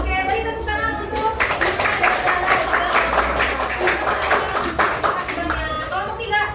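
Classroom group clapping for a fourth-grade science class team after their presentation, a dense burst of many children's hands lasting several seconds, close and loud, with kids' voices chattering underneath.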